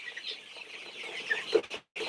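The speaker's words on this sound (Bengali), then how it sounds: "আজকে আমরা আমাদের ইউএস আগ্রোর একটি মিশরীয় ফার্মি মুরগির শেডে এসেছি" Egyptian Fayoumi hens cluck and call softly inside a poultry shed, a few scattered bird sounds over faint background noise, ending with a short gap before the ambience returns.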